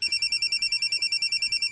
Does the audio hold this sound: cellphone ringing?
yes